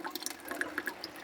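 Water dripping from a leaking T fitting on a boat's pipe, a quick run of small, close, wet drips and trickles, faint and without talk.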